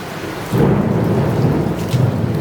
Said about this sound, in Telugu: ఉరుములు ఉరుముతున్నాయి కదా